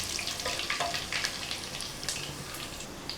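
Fenugreek, fennel and karivadagam sizzle and crackle steadily in hot oil, a continuous close frying hiss with small pops and no talking.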